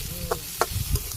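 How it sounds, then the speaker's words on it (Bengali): Spiced vegetables, coated with turmeric and dry chili powder, are stirred and fried in a pan. A soft sizzle runs beneath three or four short scraping strokes that come at an uneven pace, close by and fairly quiet. "আমি নেড়ে চেড়ে কষিয়ে নিই"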